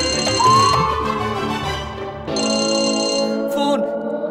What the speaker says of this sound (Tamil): ஃபோன் இந்த நேரத்துல யார் எனக்கு ஃபோன் பண்றாங்க?